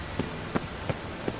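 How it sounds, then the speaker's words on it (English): Rain falling in the video game The Witcher 3, a soft steady hiss with a few brief pattering hits, faint and alone with no talk. "Looks like rain."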